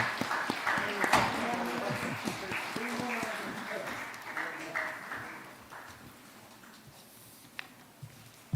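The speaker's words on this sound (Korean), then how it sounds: "박수 한번 보내주시죠." Congregation applauding during a Korean Sunday church service, scattered clapping that fades gradually over several seconds while a presenter talks.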